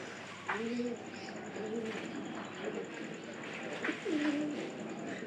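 A pigeon, suspected of having a cold, gives soft, low repeated coos close by, several rounded calls over a steady background hiss.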